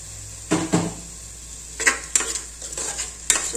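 Water is poured into a hot cooking pot of ginger-garlic paste for one-pot kuskha rice, setting off a few close sizzling bursts mixed with stirring and light pot clatter, with no talking.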